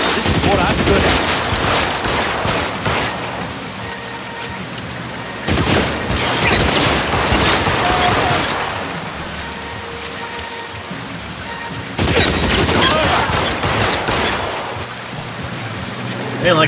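Bursts of gunfire from the video game L.A. Noire arrive in three dense volleys separated by brief dips, loud and sustained, with rattling rapid shots over a busy game soundscape.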